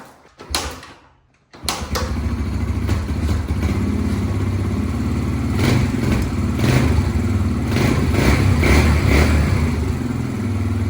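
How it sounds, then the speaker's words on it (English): A Yamaha TTR125 motorcycle is kick-started from cold after a week unused: a few scuffing kicks, then the engine catches and runs with a loud steady chugging idle, rising in brief blips. "now we're gonna turn the fuel back on and we're gonna start it."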